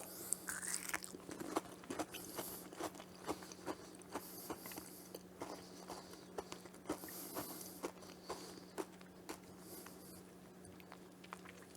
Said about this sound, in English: there's this light crunch going in, but then it's almost like there's nothing inside